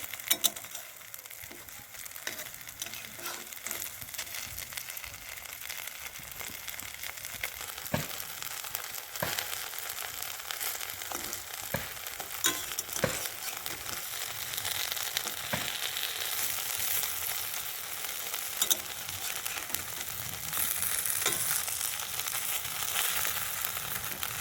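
Shrimp and lentil fritters frying steadily in hot oil in a home kitchen, a continuous soft crackle and sizzle with occasional sharper pops, fairly quiet and close, with no voices.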